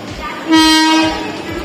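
A train sounds its horn once, a loud steady blast lasting about half a second over the rumble of the approaching train, with rail noise continuing after it fades.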